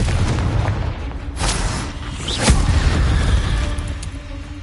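Confringo explosion spell in the Hogwarts Legacy video game, a dense, booming blast with rumbling low end and sharp bursts layered over continuous game noise.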